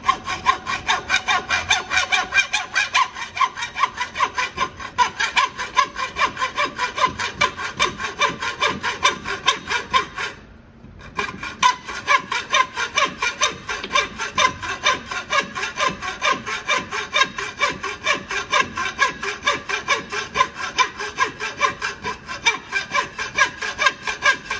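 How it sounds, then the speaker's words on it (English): A hand saw fitted with a coarse blade cuts aluminum in fast, even rasping strokes, loud and close, with one short pause near the middle before the steady back-and-forth resumes. "I've taken the coarse blade this time. Usually the coarse blade works really well on aluminum"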